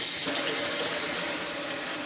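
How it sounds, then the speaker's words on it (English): A kitchen faucet with a fault sprays water sideways in a steady, loud, unbroken hiss that continues throughout, close at hand and without speech. "water spraying everywhere, including on you"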